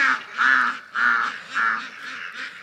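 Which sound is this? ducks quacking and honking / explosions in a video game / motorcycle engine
ducks quacking and honking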